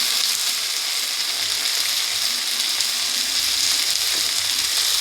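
Potatoes and eggplant are stirred as they fry in a pan, producing a dense, continuous, close sizzle with a rasping, scraping texture from the stirring, with no talking.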